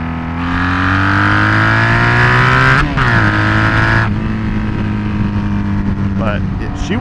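A Honda Magna muscle cruiser motorcycle revs hard while accelerating: a loud, close engine whine rises steadily, briefly drops at a gear change, climbs again and then settles to a lower drone, with someone talking over it.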